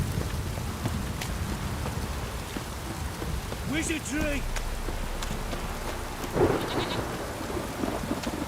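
Steady rain and a low thunder rumble in The Witcher 3, a constant wet hiss beneath brief shouted voices and a few sharp combat sounds.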